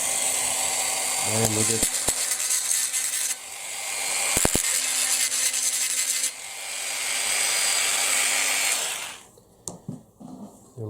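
A Dremel rotary tool grinds a small tab off the underside of a Hot Wheels Elite diecast model car, a steady high whine in two long loud bursts with brief clicks between them, then a pause and quieter handling noises, with a short spoken remark.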